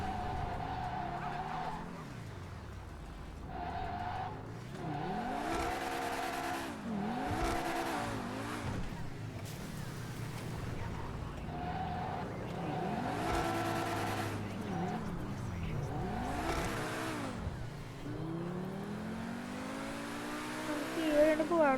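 Car driven in the video game GTA 5, with engine revs rising and falling through repeated gear changes, tyre skids and squeals, and a voice talking over the steady driving noise.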